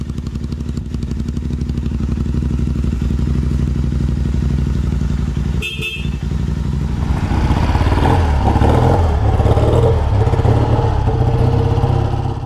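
Royal Enfield Scrambler 350 custom motorcycle rumbling steadily for about six seconds, a brief clatter, then louder with rising engine noise and wind as it rides off, close and continuous with no talk.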